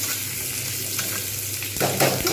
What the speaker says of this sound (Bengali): আলুগুলো এর সঙ্গে কিন্তু আমি ভালোভাবে ভেজে নেবো